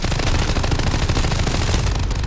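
Rapid, dense machine gun fire in Call of Duty Vanguard zombies mode, a loud continuous burst of shots close up, with no talking.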